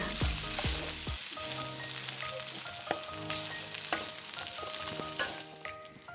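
Cooked rice for shrimp fried rice is stir-fried in a pan: a steady sizzle with sharp scraping and clinking spatula strokes, loudest at the start and continuing alone without talk.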